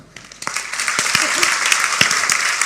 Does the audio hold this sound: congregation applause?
yes